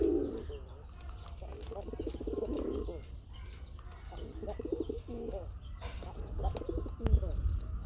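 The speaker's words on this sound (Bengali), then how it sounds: "ডাকের কবুতর" Pigeons coo in soft, repeated throaty phrases, close by in cages, with low chatter and some background noise around them.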